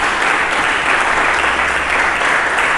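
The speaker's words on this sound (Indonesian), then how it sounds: "Mari kita berikan tepuk tangan bagi Yesus" A church congregation applauds for Jesus during a sermon, a dense, loud, steady wash of clapping that fills the whole stretch with no voices on top.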